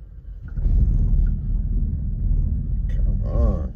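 A 1941 Cadillac barn find is towed across asphalt in gear to pop-start it with the clutch, giving a steady low rolling rumble from start to end, with a brief squealing sweep near the close.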